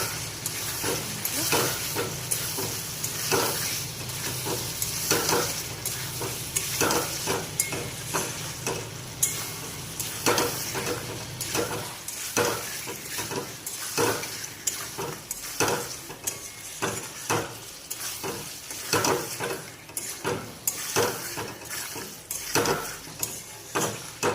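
A spoon stirs peas curry, with meat and potato, as it fries in a pan. Close, irregular scrapes and knocks sound over a steady sizzle throughout, with no talking.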